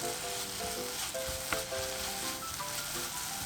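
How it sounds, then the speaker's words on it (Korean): Dried shredded pollock stir-fried over low heat in soy sauce with mirin and water: a steady close sizzle runs throughout, with one sharp clack of the utensil midway. "볶아놓은 명엽채 넣고 골고루 볶아주세요."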